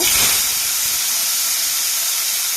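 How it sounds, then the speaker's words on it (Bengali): Bitter gourd goes into hot oil in a kadai and erupts into a loud, close, hissing sizzle that stays steady and intense throughout. "এবার উচ্ছেটা আমি ভাজতে দিয়ে দেব"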